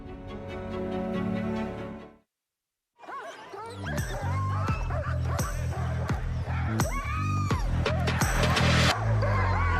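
Sled dogs yip and bark excitedly at the 2023 Iditarod ceremonial start, their dense, overlapping barks mixed with crowd noise and talk after a brief silent gap.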